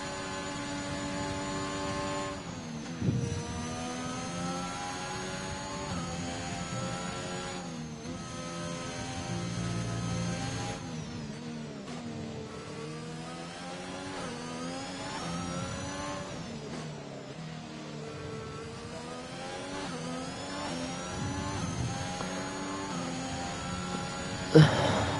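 A Formula race car engine in a racing video game, set at the Netherlands circuit, howls steadily as it accelerates through a lap, its pitch rising and dropping with repeated gear changes at moderate loudness, with a commentator's voice faint underneath.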